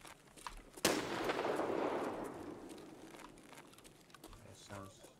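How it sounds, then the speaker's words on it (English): Grenade explosion in the shooter game Escape from Tarkov, one sudden blast followed by a long rumbling decay, with crackling noise and gunfire-like pops around it and no speech. "That grenade's getting closer as well."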